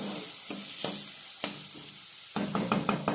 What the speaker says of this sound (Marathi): कांदा सुद्धा आपल्याला आता ट्रान्सपरंट होईपर्यंत परतायचा आहे तेलामध्ये